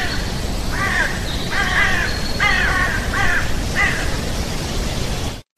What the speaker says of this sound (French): Seul le chant et les battements d'ailes de quelques oiseaux viennent troubler la quiétude des habitants